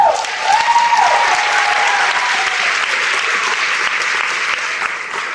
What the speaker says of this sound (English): And we clap, but you're really clapping for you